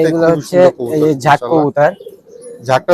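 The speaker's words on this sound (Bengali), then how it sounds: "দেখতেছেন আপনার দাপটিতে যেগুলো কবুতর রাখছে কবুতর" Pigeons in a loft coop give loud, close, throaty coos in quick repeated phrases, mixed with a voice talking.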